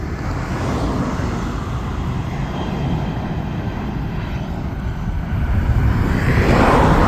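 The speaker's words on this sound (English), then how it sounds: "Ulsan Air getting ready for its takeoff from Ulsan Airport" A passenger airplane takes off from Ulsan Airport: a steady, broad, distant jet roar that grows louder toward the end, mixed with outdoor wind and road noise, with no talking.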